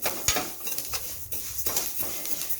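Black sesame seeds roasting in a pan, a soft continuous rustle with scraping clinks as they are stirred, fairly close and steady with no talk.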